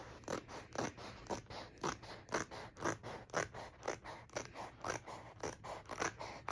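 Repeated snipping of scissors cutting around the edge of a diamond painting canvas before framing, a steady run of crisp close cuts, roughly two or three per second.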